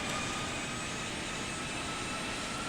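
A Philippine Airlines Boeing 747-400 in the flight simulator Infinite Flight drones with a steady, even jet engine roar, a constant broadband hum with no variation and no voices.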